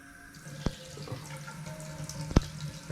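A cotton ball is soaked in water at a bathroom sink, with trickling and sloshing water and a couple of sharp taps or clicks, close up and fairly quiet.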